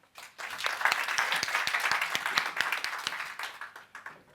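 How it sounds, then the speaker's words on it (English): Audience at an ILO centenary event in Pretoria gives Mr. Herbert Mkhize a round of applause, a brief swell of many hands with some distinct individual claps, rising quickly and fading after about four seconds. "Please give him a round of applause."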